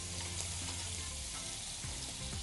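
Paneer frying slowly over low heat in a pan on a cookery show, a steady close sizzle that stays dense and even, with no talk over it.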